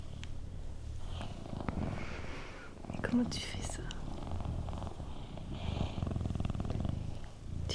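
A person imitates a cat's purr with the throat, a soft rolling rasp that comes and goes in bursts, with quiet whispered French talk between the purring.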